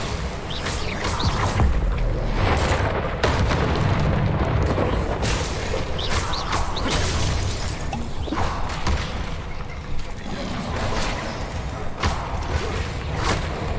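Bombarda spell blasts in Hogwarts Legacy land as repeated loud booms and thuds that overlap in a dense, chaotic run of explosive impacts through the stretch of combat, with little audible talk.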